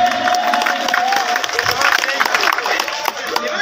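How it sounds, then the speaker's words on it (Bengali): An audience claps and cheers for performers in a green room, a dense, steady wash of applause with crowd chatter and voices running through it from start to finish. "তো ওদের জন্য একটা জোরদার হাততালি হবে।"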